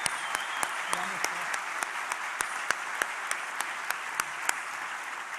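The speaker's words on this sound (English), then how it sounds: "I wonder if we can have a round of applause for Professor Herman, Jennifer Casey, and Dean LaChapelle" A graduation audience gives a round of applause at a ceremony for the Class of 2022 in Waterloo, sparse and moderately far, with distinct individual claps scattered through a soft background wash.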